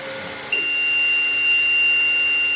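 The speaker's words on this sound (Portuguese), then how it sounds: "Vai dar o bip." A 3D printer signals that it has finished printing red filament for a three-colour keychain: a steady electronic beep tone switches on after a short pause and holds, clear and close over a faint machine hum.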